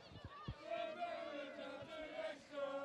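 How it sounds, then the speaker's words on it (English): Crowd singing in the stands at a university hockey match, a sustained chant with a clear held melodic line, heard from a distance across the ground with some chatter and a couple of thumps near the start. "the crowd have started singing behind us"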